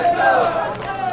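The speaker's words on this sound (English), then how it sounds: "The teams will also do their famous cheers here." A beep baseball team chants its team cheer together, a loud group of voices shouting in unison with a sustained sung tone, close and lively for about a second.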